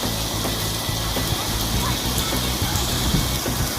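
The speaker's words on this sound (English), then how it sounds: "it is absolutely pouring it down" Heavy thunderstorm rain pours down steadily near a swimming pool in Davao, a dense, continuous hiss of drops drumming on surfaces, loud and close throughout.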